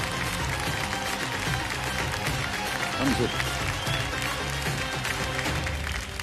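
Studio audience applause on a Kaun Banega Crorepati set fills the whole stretch, steady and dense with crowd noise, while a voice speaks briefly over it.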